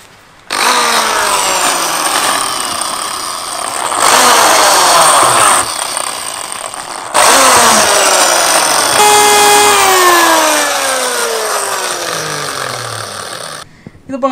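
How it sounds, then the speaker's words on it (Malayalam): A drill machine bores holes in an old tyre being made into a plant pot. The motor whines loudly and close, in long bursts, rising and falling in pitch as it cuts. "ഇവിടെ ഒരു ഡ്രിൽ മെഷീൻ കൊണ്ട് ഹോൾസ് എടുക്കണം"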